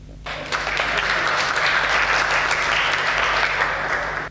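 A crowd at a Hindi comedy poetry gathering (hasya kavi sammelan) breaks into loud, sustained clapping that starts just after the opening and holds steady to the end, with a low hum underneath.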